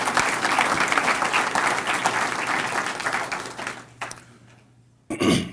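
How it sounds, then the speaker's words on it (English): Audience applause at a Martin Luther King Jr. breakfast, a sustained wash of clapping that thins toward the end, followed by a sudden loud rustle or handling noise. "So give them a round of applause for doing a heck of"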